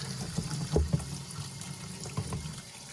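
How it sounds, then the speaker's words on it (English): Hot tap water runs and splashes over a battery-damaged Mac IIfx logic board during a rinse, a steady low gurgling stream with a few louder splashes, close by and with no talk. "we'll just give it a rinse under hot water"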